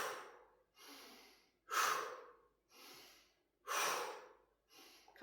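Rhythmic deep breaths during a seated chair yoga arm exercise, alternating inhales and forceful exhales in a steady pattern of about six breaths, close and fairly clear.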